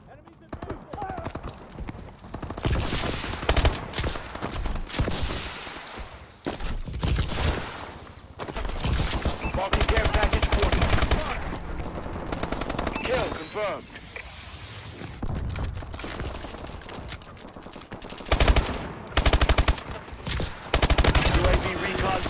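Bursts of covering gunfire rattle through a Call of Duty Advanced Warfare match, with rapid automatic volleys and sharp single shots coming in uneven clusters over dense game noise, while radio-style voices call out between them.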